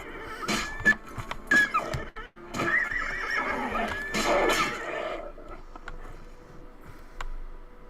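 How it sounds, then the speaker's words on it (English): A horse in the video game Oblivion gives several loud whinnies and neighs among clip-clopping hoofbeats and scattered clicks, fading to near silence at the end. "it looks like my horse is still good"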